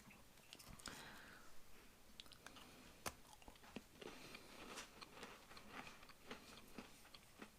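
A salty, crunchy biscuit from a 2016 French RCIR 24-hour ration pack is chewed close up, giving quiet, irregular crunching and clicking bites with no talk over them.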